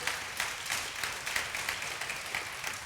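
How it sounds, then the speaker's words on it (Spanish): Church congregation applauding during a worship service, a steady wash of many hands clapping at moderate volume, fairly distant and reverberant, with no talk over it. "Démosle un aplauso a Él lo merece"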